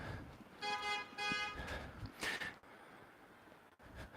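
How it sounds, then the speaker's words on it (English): A car horn honks twice in quick succession, two steady tonal blasts, followed by a brief higher toot, moderately loud against street background noise with no talking. "when that car was honking"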